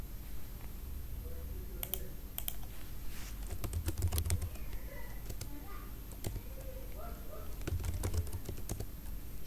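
Rapid, irregular typing on a computer keyboard while filling in an Excel data entry form, with crisp close key clicks arriving in bursts over a soft steady room hum.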